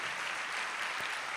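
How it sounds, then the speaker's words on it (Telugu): A church congregation claps loudly to glorify God, a dense, continuous burst of applause that fills the short moment without any voice over it. "గట్టిగా చప్పట్లు కొట్టి దేవుని మహిమపరచండి"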